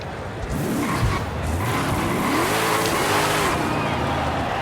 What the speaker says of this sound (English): Racing V8.